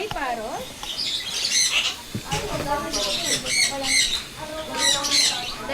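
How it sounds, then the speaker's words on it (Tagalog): An African Grey Parrot squawks and whistles in varied, rising and falling calls at close range, with a few sharp clicks between them, plus possible talking in the background. "Meron po tayo dito African Grey Parrot."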